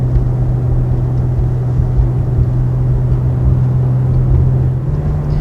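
2020 BMW X3 M in sport mode holding about 3,000 RPM at 38 mph: a steady, loud low engine drone with a strong constant hum and rumble, continuous and unbroken, no voices.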